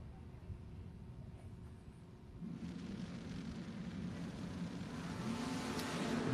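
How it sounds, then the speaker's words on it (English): Drag race cars, one of them a Camaro, launch at a drag strip with a deep engine roar that swells and builds loudly as they pull away. "Good, clean drag race."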